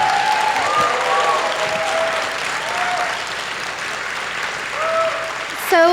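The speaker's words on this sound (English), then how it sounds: "So let's give the wonderful guests a round of applause." A convention panel audience at an anime fan event applauds its guests with steady, full clapping and some crowd noise, heard together with faint voices and a short sweep of feedback tone near the end.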